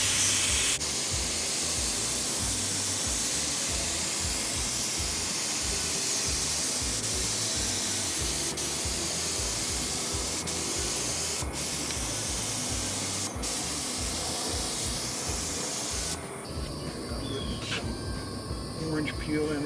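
An HVLP spray gun sprays paint onto a race car at about 20 psi, giving a steady, loud, continuous hiss that holds for nearly twenty seconds and dips slightly near the end, with occasional talk mixed in.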